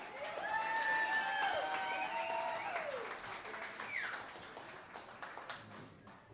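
Country music audience in a live opry venue applauding as a performer walks onstage, steady clapping that fades gradually, mixed with whistles and cheers.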